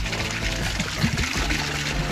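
A strong, steady gush of water pours from a faucet fed by a pump, a loud continuous rushing splash filling the whole moment with no talk.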